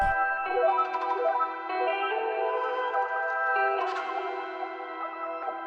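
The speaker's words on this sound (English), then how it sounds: "we can add a cool little counter melody using a flute" Layered flute counter-melody phrases, chopped and mixed into an FL Studio trap beat, carry sustained bright tones with echo and chorus effects, steady and moderately loud with no voices.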